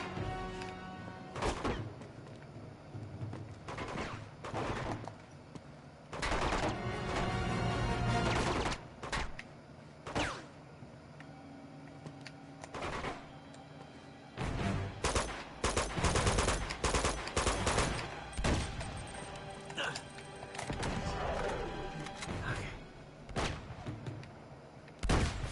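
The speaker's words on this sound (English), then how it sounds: "That shooting is very close." Gunfire in Uncharted 2: Among Thieves comes in repeated bursts of automatic fire and single shots with thuds and impacts, loud and close, recurring throughout with short quiet gaps between volleys.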